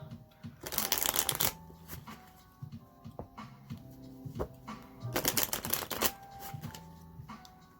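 Tarot cards are shuffled in several crisp riffling bursts, with quieter taps and slides between them as cards are handled and pulled close by.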